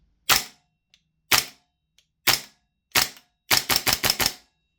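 An APFG MCX Rattler gas blowback airsoft rifle fires on semi-auto, giving four sharp, well-spaced reports and then a quick string of five snappy shots close up with no talk.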